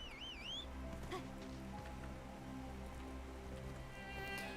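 Steady rain falling in the online game Black Desert Online, a continuous even patter on surfaces with a faint musical tone over it and no voices.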